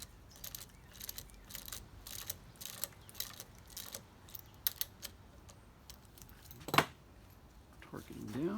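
Connecting rod bolts on a 190SL engine are torqued down with a ratchet wrench, giving a series of close, quick clicks in short bursts. A brief clank follows, and a voice speaks near the end.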